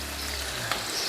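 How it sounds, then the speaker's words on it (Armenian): Chopped onion fries quietly in a pan, a soft, even sizzle with faint crackles running steadily throughout. "մինչև այս սոխը կտապակվի"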